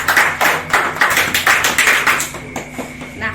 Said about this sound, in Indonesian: bisa tepuk tangan dulu